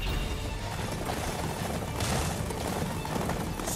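Horses gallop in the video game Attack on Titan 2, a steady dense drum of hooves with whinnies mixed into continuous game noise and faint voices.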